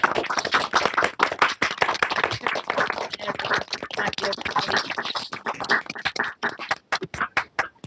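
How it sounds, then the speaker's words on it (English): An audience claps through a round of applause, loud and close with individual claps easy to pick out, thinning toward the end into separate scattered claps. "Big round of applause."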